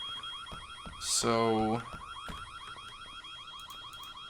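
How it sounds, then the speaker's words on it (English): A repeating electronic alarm beeps steadily in the horror video game White Day, with a steady tone under the pulses and a louder burst in the middle, while a voice briefly speaks over it. "before heading that way and taking care of this beeping sound"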